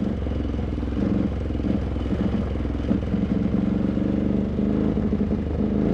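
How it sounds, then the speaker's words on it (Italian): A carburetted KTM 950 Adventure rally motorcycle engine rumbles steadily and loudly nearby, with a throbbing low pulse and slight rises in throttle, no talking. "Sentite sotto come spinge, borbotta, moto a carburatori"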